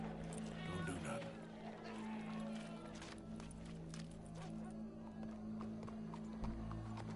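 Horse in the video game Red Dead Redemption 2, hooves clip-clopping and a whinny under in-game talk and steady background music.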